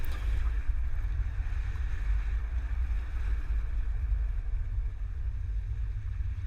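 A 2024 Volkswagen Atlas Cross Sport runs through a slalom on a test course, giving a steady low rumble of engine and road noise from inside the cabin with no talk.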